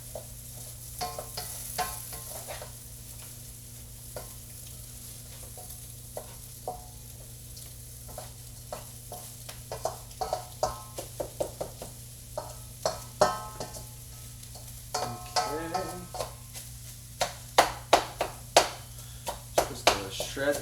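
Sprouts stir-fry in a pan for a Thai dish, with a faint sizzle under a stream of sharp utensil scrapes and taps that grow louder and denser toward the end.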